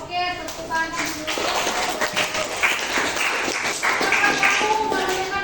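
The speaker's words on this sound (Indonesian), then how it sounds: "tepuk tangan dulu" Students in a biology classroom clap together for a short burst of loud, uneven applause, with a few children's voices mixed in among the claps.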